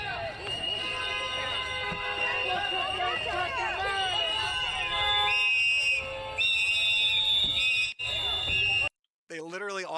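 Protesters blow shrill whistles in overlapping, wavering blasts amid crowd babble and nearby voices, loud and continuous, with a short burst of speech at the end.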